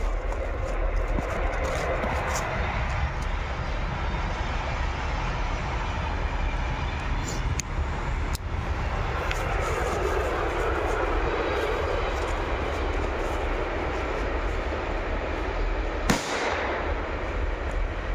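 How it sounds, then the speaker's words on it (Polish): A train passes nearby with a continuous loud rumble and rattle that fills the whole stretch. Near the end a single sharp bang stands out above it. "Akurat jedzie pociąg"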